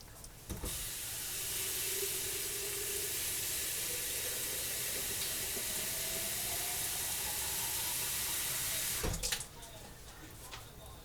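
Water pouring steadily from a tap into a pot for making Texas red chili, a continuous loud rushing hiss lasting about eight seconds before cutting off with a clunk.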